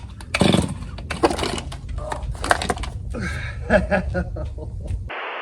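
Repeated ragged pulls on a chainsaw's starter cord in a garage, several rasping bursts of uneven length, with a voice chuckling among them.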